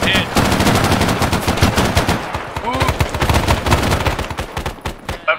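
Machine gun fire in the Arma 3 video game, set in Vietnam: loud, rapid, sustained bursts of automatic shots close by, with a brief shouted voice among them.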